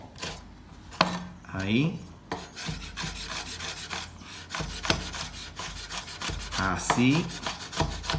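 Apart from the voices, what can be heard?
knife finely chopping fresh tomato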